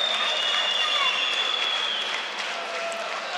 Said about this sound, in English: And this crowd are up on their feet, applauding this performance.